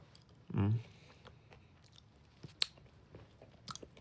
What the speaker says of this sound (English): Let me chew a little bit more.